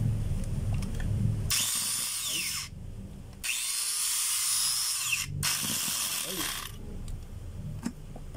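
A DeWalt DWE8200S 4-inch angle grinder is switched on in two loud bursts of high, rushing whine, each a second or two long. Quieter mechanical rattling and clicking fill the pauses between and after the bursts.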